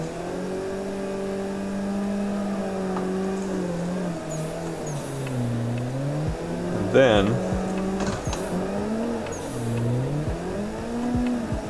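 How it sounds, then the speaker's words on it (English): Drifting car in the modded racing game Assetto Corsa at a drift matsuri event, its engine whining steadily with rising and falling revs and tire noise throughout, under continuous talk from a man. "keep the car in drift and not put it into a wall"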